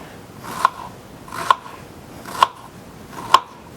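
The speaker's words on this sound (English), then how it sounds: "make sure your knife does that. And probably a safer way, and then cutting it off like this" Knife slicing through an onion on a cutting board while dicing, four evenly spaced crisp cuts about a second apart, close and clear.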